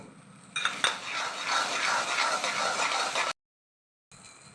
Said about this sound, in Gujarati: હવે આ ખાંડ નાખી દઈશું